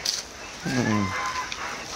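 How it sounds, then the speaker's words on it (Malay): A chicken in a backyard poultry pen at a house gives one drawn-out, close cluck or crow midway through, over faint farmyard background sound. "Ini ternak ayam guys."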